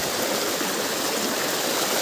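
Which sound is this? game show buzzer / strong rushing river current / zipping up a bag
strong rushing river current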